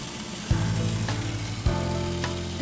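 Boysenberry syrup bubbling in a pot on the stove, a steady close sizzle and low rumbling boil with two sharp clunks, like the lid or pot being shifted, breaking through the continuous sound.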